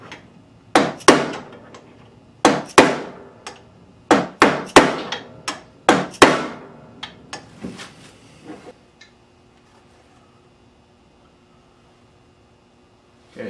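A hammer drives a dowel on a 2006 KX65 dirt bike engine part, about a dozen sharp, loud metallic strikes in uneven bursts of two or three, then quiet with a faint hum.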